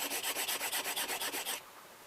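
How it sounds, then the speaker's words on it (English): A new iron for a Vaughan and Bushnell 804 hand plane is honed on coarse diamond stones, making about a dozen quick, even rasping strokes close up before the scraping stops. "We'll do that again on the coarse diamond stones and see how lucky we"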